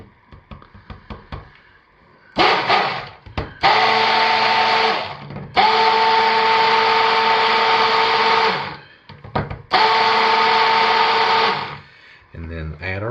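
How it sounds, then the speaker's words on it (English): A blender mixes activated charcoal into soap oils for cold process soap, whirring loud and steady in three long bursts with short pauses and brief handling clicks between them. "I'm going to go ahead and blend it well to make sure that the activated charcoal"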